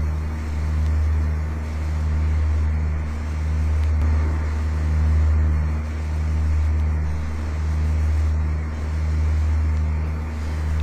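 The steady, droning engine of a light aircraft in Microsoft Flight Simulator X, running at about 2300 rpm, with a low hum that swells and fades in a slow regular rhythm.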